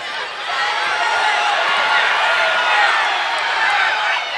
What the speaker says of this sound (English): Crowd getting some noise together